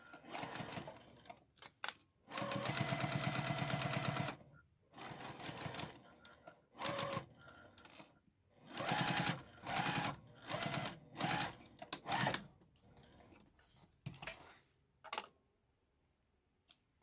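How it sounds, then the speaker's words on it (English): A sewing machine bastes down a zipper pouch in a series of loud, close bursts of rapid stitching, some long and some short, separated by pauses and quiet handling. "Now we're just going to baste this down."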